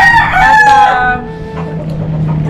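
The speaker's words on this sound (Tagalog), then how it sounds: "Nandito po yung mga alaga po naming mga manok" A rooster kept in a rooftop poultry pen crows once, loud and close, a strong drawn-out call that tapers off, with softer clucking from other chickens behind it.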